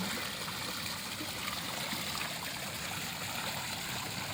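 A stream of water flows steadily at Kottakkunnu in Malappuram, a continuous broadband rush with no pauses and no voices.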